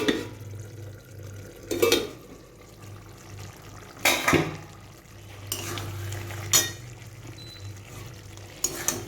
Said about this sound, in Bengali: ঢাকনাটা খুলছি।